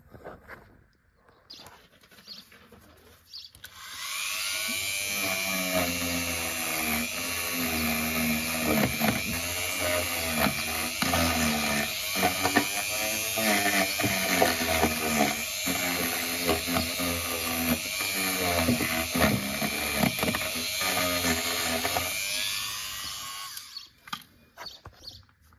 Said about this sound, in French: Je vais y mettre un petit coup de brosse tournante pour enlever la rouille